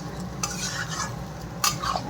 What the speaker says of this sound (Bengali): আর এই যে রাজমা ডালটা ভালো করে কষে নিয়েছি আলু দিয়ে